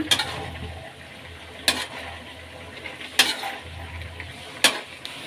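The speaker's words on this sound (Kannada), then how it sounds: "ಈಗ ಪಾಸ್ತಾ ಹಾಕ್ಕೊಳ್ಳೋಣ ಮಿಕ್ಸ್ ಮಾಡ್ಕೊಳ್ಳೋಣ" Penne pasta being stirred into masala in a pan, with soft scraping under a low background hum and four sharp spoon knocks against the pan at roughly even intervals.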